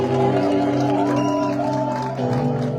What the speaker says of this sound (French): En poussant les cris de joie ce matin.